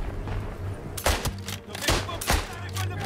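A machine gun nest fires in the WW1 video game Isonzo, rapid clustered bursts of shots cracking in irregular volleys at moderate loudness.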